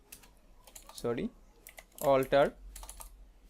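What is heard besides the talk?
typing on a computer keyboard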